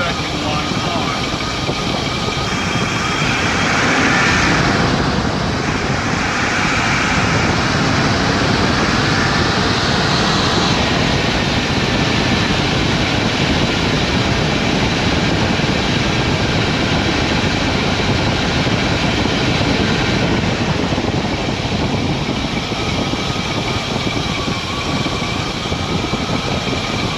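A 2000 Ford F250 with a 5.4 liter engine, fitted with new injectors, plugs and coils, revs with its vacuum line connected, a continuous loud engine drone with rising and falling pitch throughout.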